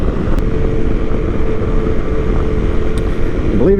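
A Honda CRF 250 Rally motorcycle runs at steady speed, its engine droning as a continuous loud hum mixed with wind noise, close throughout, with a brief rise in engine pitch at the end.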